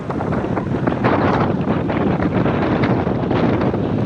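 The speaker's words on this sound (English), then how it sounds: "Looking for punishment in this strong wind" Strong wind buffets the microphone on a January cycling ride, a loud, continuous roaring rush that sounds close and covers everything else.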